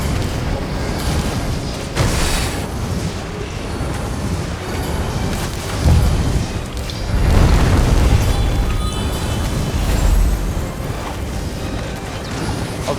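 Loud, dense rumbling bursts and fiery booms roll on without pause as a video game boss hurls fire, with heavier surges swelling through the middle of the stretch.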